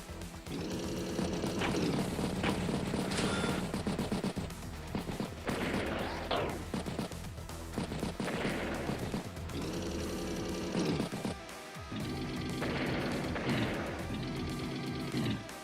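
Artillery fire in the turn-based war game Advance Wars by Web: repeated cannon-like bangs and rattling impacts sit under continuous loud game music.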